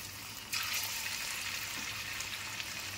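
A soft, steady sizzle of lentil cake pieces frying in oil in a wok starts suddenly and continues evenly, fairly faint and with no voices.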